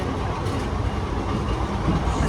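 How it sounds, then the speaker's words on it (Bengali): Train running past a station platform in India, a broad, steady rumble filling the whole stretch with faint clattering texture, close and continuous. "চোখের সামনে দিয়ে ট্রেনটা আর কি চলে গেল"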